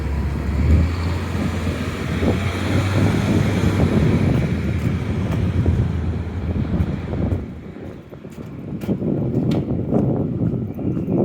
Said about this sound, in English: A little breezy, but not much.